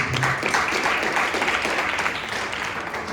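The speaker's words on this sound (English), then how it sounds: "can we give them a round of applause?" Summit delegates in a hall break into applause, a dense steady wash of clapping heard throughout at moderate loudness with no voices on top.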